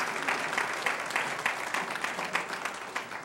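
Dinner guests at a university honorary degree dinner clap together, a brisk, fairly loud burst of mixed hand claps with a busy rhythmic texture, lasting a few seconds without speech.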